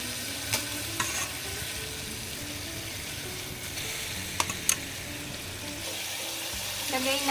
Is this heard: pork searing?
yes